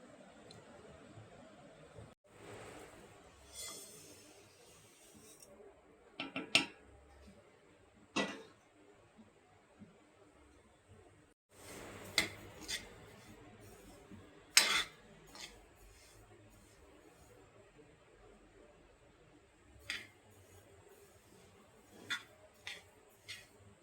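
Sesame seeds being dry-roasted and stirred in a pan on a quiet stovetop, with sparse metallic clinks and scrapes of a spatula against the pan at irregular intervals over low background hiss.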